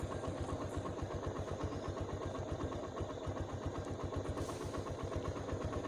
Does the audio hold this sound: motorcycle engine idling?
yes